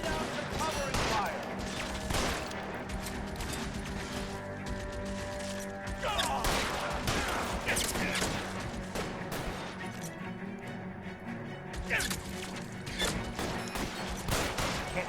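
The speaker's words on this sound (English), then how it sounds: "Lay down some cover and fire." Sustained gunfire in a video game shootout from L.A. Noire, a dense barrage of shots with loud bursts recurring throughout, mixed with crashes and background voices.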